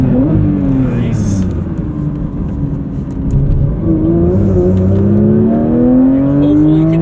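Porsche 911 GT3 MR from 2024 driven hard on a track, engine note rising and falling through gears from inside the cabin, loud and continuous, with a voice speaking over it.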